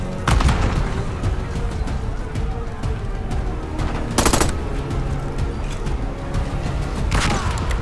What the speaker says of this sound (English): Uh-oh, grenade like that.